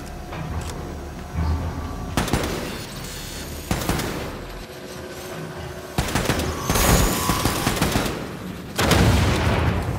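Loud gunfire bursts from a gun in Wolfenstein II: The New Colossus come in several separate volleys, each sharp and dense, with quieter stretches of game ambience between them.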